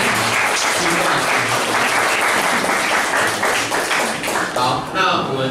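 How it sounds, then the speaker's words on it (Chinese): Audience applause at a talk or panel event, a loud, sustained burst of many hands clapping close by, thinning slightly near the end with some voices mixed in. "那我们给宝杰给掌声啊"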